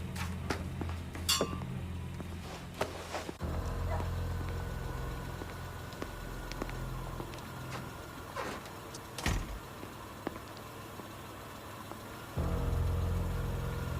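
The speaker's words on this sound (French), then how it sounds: "je crois entendre sa voiture" A car engine idles steadily as the vehicle arrives, a low rumble under scattered clinks and knocks that stops abruptly partway through and then resumes, with no talk.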